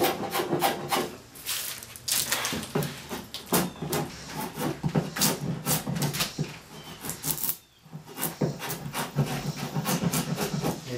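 A scorp carves out a wooden chair seat with repeated rasping, scraping strokes, irregular and close, pausing briefly once before the rhythmic cuts resume.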